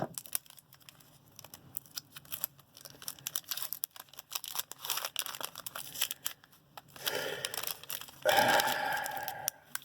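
A package of Fairfield baseball cards, stuck shut, gets cut and torn open up close, with soft crinkling and scattered snips building into louder tearing and crunching toward the end.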